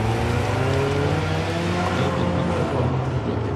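A Porsche entered in the GTS 4.0 class roars through an autocross run at Auto Club Speedway, its engine loud and close, with a steady, dense drone that holds without a break.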